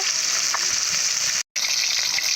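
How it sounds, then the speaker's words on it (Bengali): Rupchanda fish frying in hot oil in a pan: a steady, loud, close sizzle with a dense hiss. It cuts out briefly for a moment, then resumes. "মাছগুলো লাল লাল করে ভেজে নিয়েছি"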